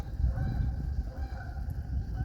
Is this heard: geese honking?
yes